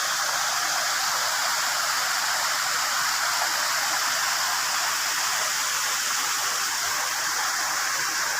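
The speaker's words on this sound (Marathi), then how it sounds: "खाली या डोंगर दऱ्या आणि खळखळणारं पाणी" Gurgling mountain stream water in Konkan rushes steadily and close with a dense, even hiss, running alone without pause.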